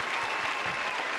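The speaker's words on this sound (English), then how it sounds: "Hit them with that round of applause one more time" A podcast studio audience gives a round of applause for Tremaine, a dense, steady burst of clapping from several people filling the whole moment at close range.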